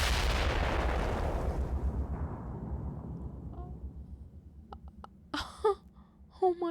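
A big anime explosion as a character blows herself up, a loud booming blast that rumbles and slowly fades over several seconds, followed by sharp gunshot-like cracks and voices from the show.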